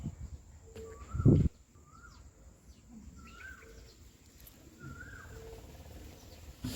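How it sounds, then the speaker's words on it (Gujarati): An Asian koel calls in the evening on a village farm, giving four or five rising whistled notes spaced evenly over quiet background hum, with one short thump near the start. "સાંજનો સમય છે, મસ્ત કોયલ બોલે છે,"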